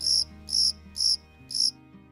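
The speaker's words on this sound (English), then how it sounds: "If you go silent and all you hear is crickets," Crickets chirp in four evenly spaced, high, shrill pulses, steady and fairly loud over a faint low background hum.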